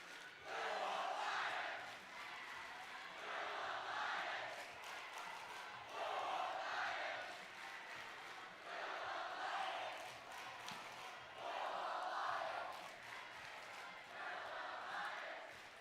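A loud cheering section at a high school robotics district event rises and falls in repeated rhythmic bursts of shouting and chanting, with a booming hall echo.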